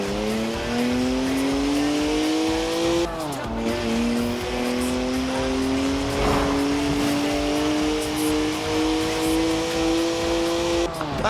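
A BMW 1M with a twin-turbo 3-litre straight-six making 335 horsepower, driven in Forza Horizon 4: a loud, steady engine drone that climbs in pitch, dips briefly at a gear change, then rises again with tire squeal.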